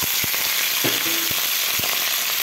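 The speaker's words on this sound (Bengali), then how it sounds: "কপিটা আগে ভেজে নিব।" Cauliflower fries in hot mustard oil in a wok with a loud, steady sizzle and crackle, and a few short spattering pops and stirring scrapes break through.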